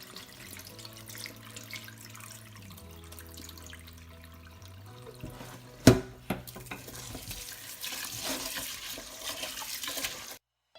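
Rice being washed by hand in a bowl of water until it runs clear, with gentle swishing and stirring, a sharp knock partway through, then louder splashing and trickling water toward the end over a faint low hum.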